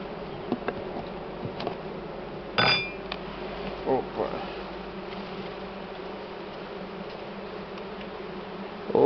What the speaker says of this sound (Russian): Пошли за перегородку, пчелы много.